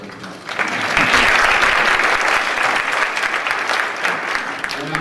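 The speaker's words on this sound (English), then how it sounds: "we'd all applaud for him now, but I'll get that right" Audience applause at a school spring concert swells quickly into a loud, dense burst of clapping and holds steady before easing slightly toward the end, with a faint crowd murmur underneath.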